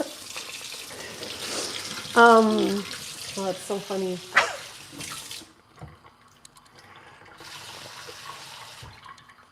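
A hot kitchen tap runs with a steady hiss of flowing water under laughter and bright talk, and the stream continues more quietly after the voices fade.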